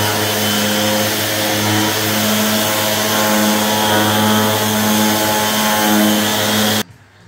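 A power sander with 180 grit runs across a wooden stair tread, a loud, steady whining hum with strong tonal lines for about seven seconds before cutting off abruptly, close up and with no speech.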